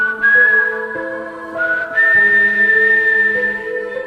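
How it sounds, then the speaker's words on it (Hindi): Whistled melody drifting down from an upper floor of a cursed castle, a single person whistling a slow tune in sustained, wavering notes, clear and fairly loud with no talk over it. "ये सीटी की आवाज़ तो ऊपर से आ रही है ना, शायद ऊपर कोई है।"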